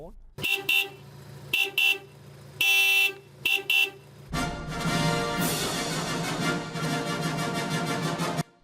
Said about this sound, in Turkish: bu Honda'nın kornasını dinleyin